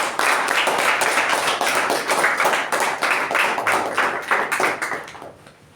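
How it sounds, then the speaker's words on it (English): An audience at a Toastmasters meeting applauds to welcome the MC, with brisk, dense clapping from a small group close by that keeps on strongly and then tapers off at the end. "our MC for today, Toastmaster Jyothi Rao, with a huge round of applause."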